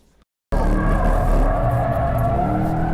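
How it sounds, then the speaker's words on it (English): A Corvette C8 Z51 drifts through a corner on track, tires squealing loudly and steadily over a droning engine from about half a second to the end, after a brief silent gap at the start. "as in the Corvette reveal video, it shows one drifting smoothly in a corner"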